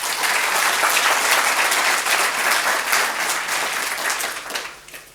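A large audience applauds steadily and loudly at a university graduation ceremony in Iceland, a dense wash of clapping that holds for several seconds before fading slightly at the end.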